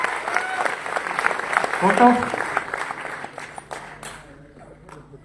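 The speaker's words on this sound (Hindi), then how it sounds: "तो जोरदार ताली होनी चाहिए सब लोगों के लिए यार।" Seminar audience at ITO, Delhi clapping in a dense burst that swells around the two-second mark and then thins out, with someone speaking over it.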